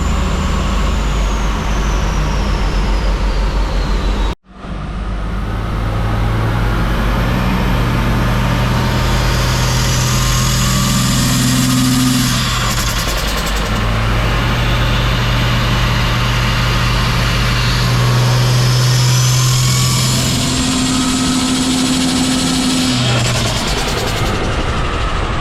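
Turbocharged Ford AU Falcon engine running hard on a dyno with compressor surge, a loud sustained roar with a brief dropout, then steady droning tones that shift in pitch.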